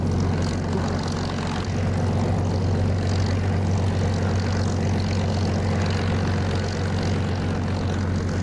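A Spitfire's piston engine idles and rumbles steadily while taxiing in the DCS flight simulator game, a constant low drone with no speech over it.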